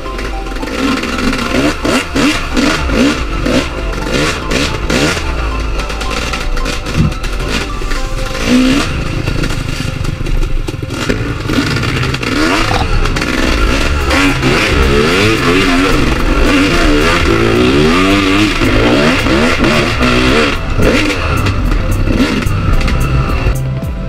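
Motorcycle engines revving hard at a race in Magallanes, Cavite, loud continuous rasping roar with rising and falling revs and some clatter, no voices.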